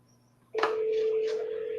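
A telephone call is being placed: after a brief quiet moment, a steady tone starts abruptly and holds, loud and close, with a faint voice in the background.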